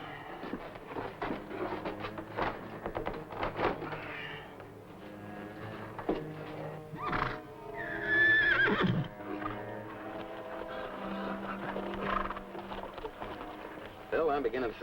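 Horses whinny amid faint hoof clops and cooing pigeons in a western outdoor setting, one clear neigh rising midway while people talk throughout.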